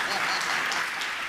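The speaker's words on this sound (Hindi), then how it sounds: "बजाओ जोर से ताली।" A large audience at a Jain monk's question-and-answer discourse claps loudly, a dense continuous wash of applause sustained through the moment.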